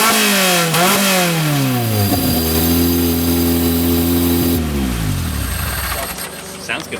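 A car engine running with its MAP sensor removed revs up and down in rising and falling sweeps, loud and close, with voices in the background.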